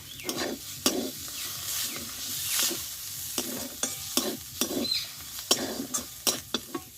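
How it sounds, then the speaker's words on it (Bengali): Cauliflower stalks with cumin powder stirred in a frying pan, quiet sizzling broken by repeated sharp scrapes and clinks of the spoon against the pan. "আর দেবো একটু জিরি গুঁড়ো দিয়ে আবারও কিছুক্ষণ নাড়াচাড়া করে নেব"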